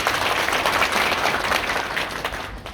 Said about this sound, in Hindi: इनके लिए एक बार जोर से ताली बजा दें।